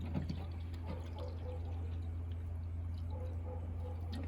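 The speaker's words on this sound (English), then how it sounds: "I'm gonna pour in 500 milliliters of water." Water being poured into an aluminum pan during an elementary science demonstration, a steady liquid pour with small splashing drips over a constant low hum, fairly close and continuous with no talking.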